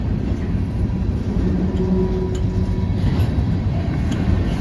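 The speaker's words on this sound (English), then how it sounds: "Here's the end of the train, guys, and there it goes!" A CSX freight train rumbles past on a cold, very windy day as its last cars go by, a loud, continuous low roar with wind noise and faint rail clatter throughout.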